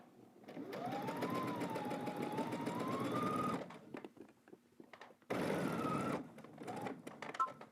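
A domestic sewing machine runs basting stitches along a sleeve cap in two long, steady whirring passes, close and clear, with a quiet pause of handling between them.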